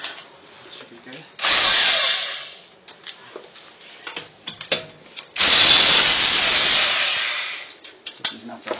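A power tool fitted with a 21mm socket whirs in two loud bursts, spinning lug nuts off a 2009 Hyundai Accent, with clanks and rattles of handling between them.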